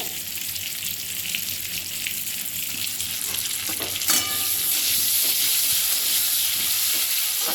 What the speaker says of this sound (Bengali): এবার ওই কড়াইয়ের মধ্যেই আমি আরও এক চামচ ঘি দিয়ে দিলাম দিয়ে আমি আলুটাকেও হালকা করে ভেজে নেব